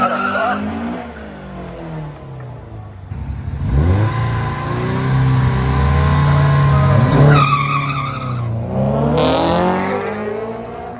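A Honda Civic with a B20 VTEC engine makes a drag racing pass, its engine revving hard and rising through the gears. Tires squeal and the engine note climbs loud and close without a break.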